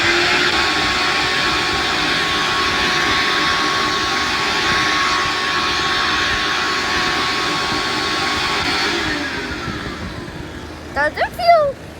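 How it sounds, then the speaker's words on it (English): A vacuum cleaner in the Melon Sandbox video game switching on, a steady loud motor whine and airy roar that fades out near the end, followed by short electronic beeps, while a voice talks over it. "I'm a vacuum cleaner that's collecting dust."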